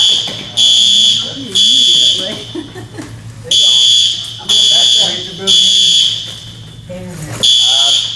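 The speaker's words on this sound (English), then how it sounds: "Fire alarm? Yep, fire alarm." A loud electronic fire alarm sounds in repeated long beeps with short gaps during a Council on Aging meeting, while people talk underneath.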